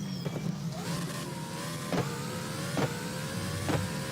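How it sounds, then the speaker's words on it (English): A Ferrari Formula 1 car in the Grand Prix 4 racing game pulls out onto the track at the Australian Grand Prix. A thin, whining engine tone climbs in pitch, punctuated by a few sharp clicks. "we should have a car heading out onto the track"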